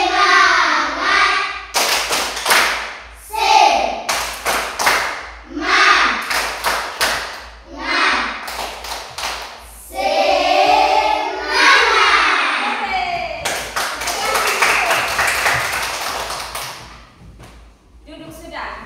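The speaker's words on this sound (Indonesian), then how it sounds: "Ayo 1, 2, 3. Tepuk semangat." Primary schoolchildren in a classroom perform a rhythmic spirit clap, tepuk semangat, with bursts of sharp, loud group clapping in set patterns. Chanted children's voices come between and over the claps.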